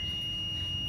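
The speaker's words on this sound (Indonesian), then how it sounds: "Jadi nanti jika diukur kok hasilnya bunyi seperti ini, berarti menandakan kapasitor rusak" A multimeter set to buzzer mode beeps while probing a capacitor on a laptop motherboard, giving a steady, continuous high tone held for about a second over low hum.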